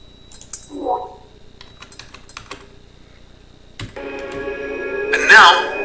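Computer keyboard keys are tapped in short, sparse clicks, a few quick presses close by, while a simulator's electronic tones and a brief voice sit around them.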